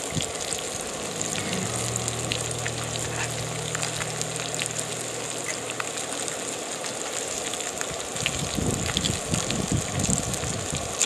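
Speckled trout fillets frying in a pan, a steady loud crackling sizzle that continues throughout, with a low tonal hum in the first part and a bit of stirring toward the end, no voices.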